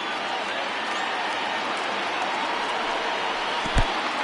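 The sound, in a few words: baseball stadium crowd rising and cheering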